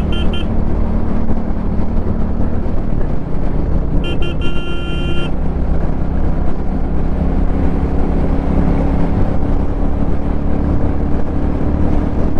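A 2023 Royal Enfield Bullet 350 motorcycle cruises along with a steady, continuous low engine drone, loud and close throughout, with brief horn-like tones from traffic partway through.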